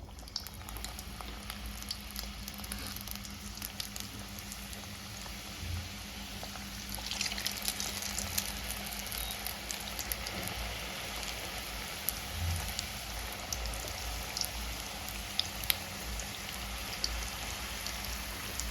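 Chicken tandoori keema samosas sizzling in hot oil, a steady soft crackling hiss with faint bubbling, quiet and continuous with no talking.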